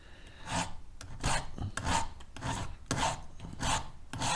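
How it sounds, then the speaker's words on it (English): A metal file's corner is drawn repeatedly across a Barnett crossbow arrow, making rough rasping strokes in a steady rhythm of about six passes, close and fairly loud with no talking. "all you're doing is you're filing it with the corner of the file"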